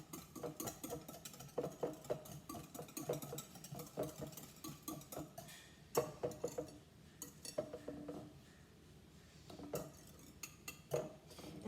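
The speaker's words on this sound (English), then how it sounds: "So you're just gonna whisk it." Pumpkin pie filling with spices being whisked in a bowl, a rapid, quiet clinking and tapping of the whisk against the bowl in uneven bursts, close by with no talking.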